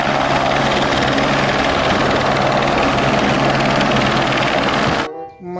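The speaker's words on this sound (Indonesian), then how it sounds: "Helikopter." A toy helicopter plays a loud, continuous rotor-and-engine sound for about five seconds, close and steady, then cuts off abruptly before a brief spoken word.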